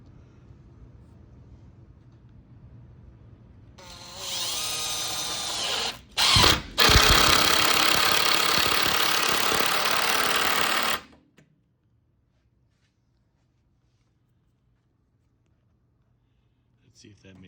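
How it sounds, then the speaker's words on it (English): A power drill drives a screw into a warped wooden stud, whirring loudly for several seconds with a brief pause and a lurch as the screw bites, then cutting off to near silence. "we're going to use a screw, not a nail, like I said, and we're going to suck it tight"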